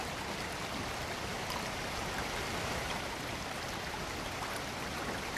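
A stream rushes steadily and loudly over basalt rocks, a constant full-bodied roar with no pauses.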